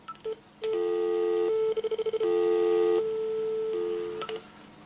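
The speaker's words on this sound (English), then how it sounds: "Check the dial tone." A steady telephone dial tone hums for several seconds, broken midway by a quick run of rapid dialing beeps, then continues alone.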